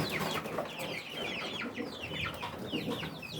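Rhode Island chicks in a DIY battery cage cheep and cluck nonstop at close range, many small voices overlapping over a steady farmyard hiss.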